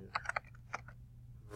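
Several quick, light key presses on a computer keyboard in a quiet office setting, a short uneven run of clicks followed by one sharper tap at the end.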